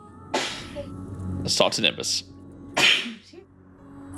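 A single sharp human sneeze bursts out between stretches of speech, brief and close, with talking on either side of it.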